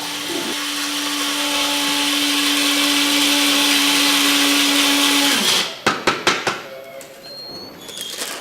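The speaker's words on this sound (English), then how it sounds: "Currently she's teaching me how to grind coffee beans." An electric coffee grinder whirs loudly and steadily as it grinds coffee beans in a Nicaraguan home kitchen, then cuts off, followed by several sharp knocks and taps, with no one talking.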